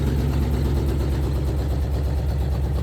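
A 1966 Jeep Gladiator's 327 Vigilante V8, running on a cheap Chinese carburetor with no exhaust fitted, idles loud and close with a steady, even pulsing beat.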